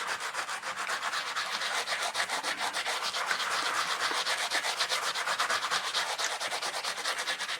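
A cast eco-casting-powder air freshener is rubbed against the rough side of a sanding pad in fast, even back-and-forth strokes, a close scratchy rasp that continues without pause and without speech.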